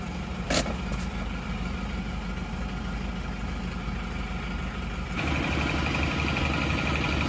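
An Isuzu Panther LS automatic's engine idles steadily after reaching working temperature, a close low rumble with its exhaust note deepening and growing slightly louder toward the end.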